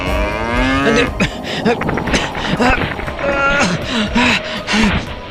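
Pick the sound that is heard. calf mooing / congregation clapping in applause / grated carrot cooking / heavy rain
calf mooing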